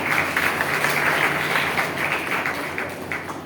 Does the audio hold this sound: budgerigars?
no